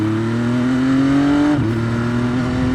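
A 2020 MV Agusta F3 800 RC three-cylinder motorcycle engine holds a loud, steady drone, then blips sharply as it downshifts two gears, the pitch dropping with a quick throttle stab close up.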